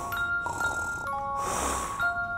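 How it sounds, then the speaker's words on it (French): A tired grandmother snores at night, soft rasping breaths repeating in a slow rhythm, heard from close by amid faint tinkling tones. "Si elle est vraiment fatiguée, elle ronfle aussi."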